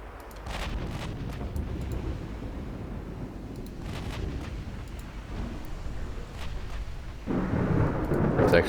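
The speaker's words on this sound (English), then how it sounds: "It's rainy and stormy." Stormy, rainy weather in the naval strategy game Ultimate Admiral Dreadnoughts, with steady rain-like noise and low rumbling thunder rolling throughout and a louder swell near the end; no one speaks.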